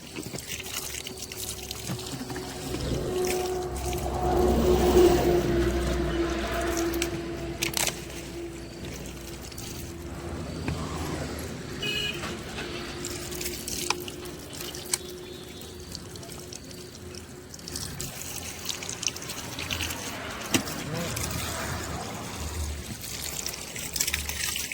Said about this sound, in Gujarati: પાણી ભરવા ગરમ પાણી આવે છે